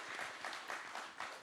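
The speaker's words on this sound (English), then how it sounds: "Clap it up" Faint audience clapping at a panel discussion on the metaverse and creator businesses, a brief scattered round of applause heard from a distance.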